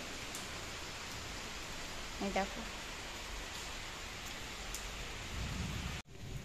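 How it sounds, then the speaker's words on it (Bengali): Heavy rain pours outside in a steady, dense hiss that fills the whole clip, with a brief spoken remark partway through and a sudden cut near the end. "বাইরে প্রচন্ড বৃষ্টি শুরু হয়ে গেছে"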